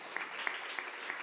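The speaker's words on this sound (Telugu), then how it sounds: "చప్పట్లు కొడదామా?" A church congregation at Beracah Church in Guntur breaks into applause, a faint, steady wash of many hands clapping with a few sharper claps standing out.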